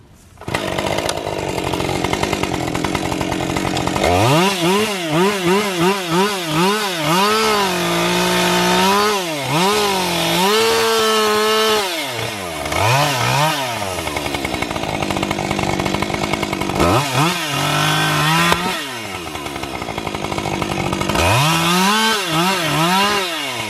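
A chainsaw runs loudly, its engine revving up and down repeatedly as it cuts through a large, rotten tree, with a steady whining buzz throughout.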